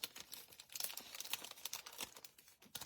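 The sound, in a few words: paper crinkling as a card swap is opened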